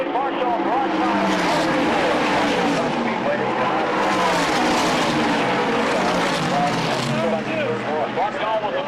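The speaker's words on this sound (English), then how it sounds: "Made a right-hand turn and stuffed his car into the wall rather than hit Markdahl broadside." Race cars at Daytona roar past in a loud, continuous blur of engine noise and tire squeal during a crash sequence, with a commentator speaking over it throughout.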